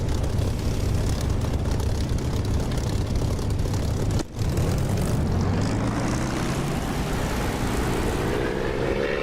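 A propeller aircraft in the DCS flight simulator game drones loudly and steadily at full power on its takeoff roll, with a brief dip partway through and the engine tone climbing gradually afterward.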